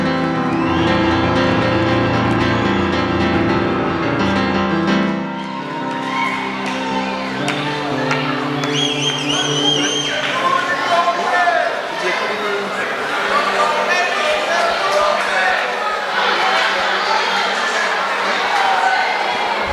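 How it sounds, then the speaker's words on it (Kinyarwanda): A crowd at an award ceremony cheering and applauding for Rugenza, a dense wash of clapping, whoops and shouting voices with loud talk over it throughout. "amashyi menshi cyane kuri Rugenza"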